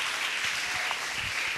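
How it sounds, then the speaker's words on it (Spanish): A church congregation applauds during a Spanish-language sermon, a steady wash of many hands clapping at moderate volume without speech. "Dele un aplauso al Señor"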